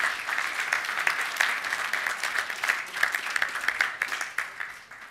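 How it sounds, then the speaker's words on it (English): An audience at a business leadership conference gives a continuous round of applause, a dense, steady patter of many hands clapping at moderate distance. "Give yourselves a big round of applause."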